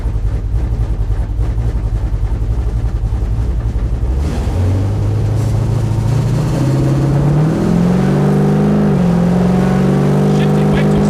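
A scrapped 1972 Buick Skylark on its first drive, its engine loud and close, dropping after a shift and then climbing in pitch as it accelerates, with a steady road rumble underneath.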